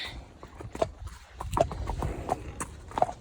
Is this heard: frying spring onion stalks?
no